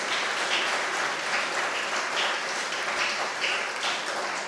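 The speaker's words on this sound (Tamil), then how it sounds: "நீங்கள் எல்லாரும் கண்டிப்பாக அதுக்கு கைத்தட்டணும் இல்லையா?" Audience applause for a special guest, Father Raj, at a media academy graduation ceremony: dense, steady clapping from a sizable crowd, fairly even in loudness throughout, with no talking over it.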